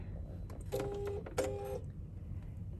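A sewing machine top-stitching a foldable carry-all duffle bag with white thread at a 3.4 stitch length runs in two short bursts of whirring stitches, separated by a brief pause, over a low background hum.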